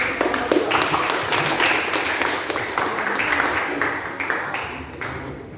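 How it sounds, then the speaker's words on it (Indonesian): A classroom audience applauds after a group presentation, dense steady clapping from many hands close by for several seconds. "Berikan tepuk tangan dulu."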